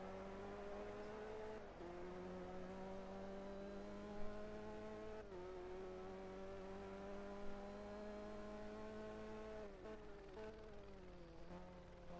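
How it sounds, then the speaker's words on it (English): A Clio Cup race car downshifts into a corner, its loud buzzing engine note dropping in sharp steps at each gear change before holding steady, heard close and alone over a constant low drone. "downshifting to get as much speed through the corner as possible"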